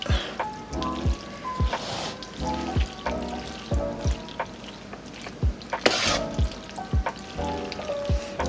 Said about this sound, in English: I'm just going to gently try to mix it up